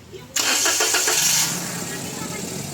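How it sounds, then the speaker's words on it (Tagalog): A Toyota Wigo engine, which has a misfire and dashboard vibration, cranks and catches, then settles into a steady loud idle with a hissing, mid-pitched roar. "pa-start ko na itong makina"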